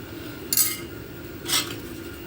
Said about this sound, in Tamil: இப்போ ஒரு கரண்டி சாதம் வச்சு இந்த குழம்பை கொஞ்சம் அதில் வச்சு